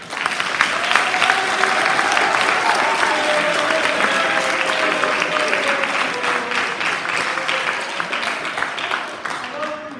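Audience applause welcoming a student to the podium for a senior speech: a steady, full round of clapping that holds for about ten seconds and eases slightly at the end.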